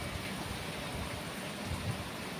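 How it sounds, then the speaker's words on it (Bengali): Rain falling steadily on a metal balcony grill during a heavy downpour, a soft, even patter of drops with a continuous hiss, faint and close, with no voices. "দেখো কিভাবে বৃষ্টি হইতেছে"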